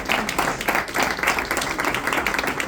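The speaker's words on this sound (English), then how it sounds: "I think we can all give him a round of applause" An audience at an academy launch event gives a round of applause, dense continuous clapping from many hands filling the room.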